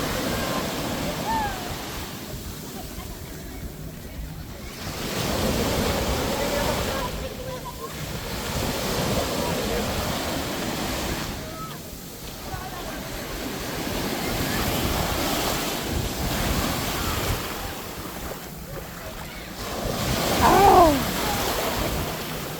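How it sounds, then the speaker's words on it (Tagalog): Strong ocean waves break on the beach at Matabungkay, Batangas, Philippines, in slow repeating surges of rushing surf. Gusty wind buffets the microphone, and faint voices come through now and then. "Ang lakas ng alon"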